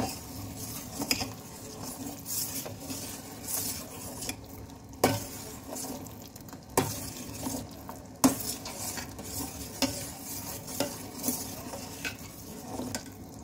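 A spoon stirs sugar syrup with saffron in a pan for jilapi, giving close, repeated scrapes and clinks against the metal in an uneven rhythm over a soft bubbling hiss, with no talking.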